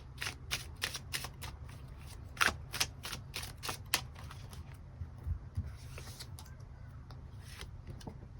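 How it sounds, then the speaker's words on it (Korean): Tarot cards being shuffled and drawn, a quiet close series of crisp riffling snaps and flicks in irregular bursts over a faint low hum. "추가 카드 뽑아보도록 하겠습니다"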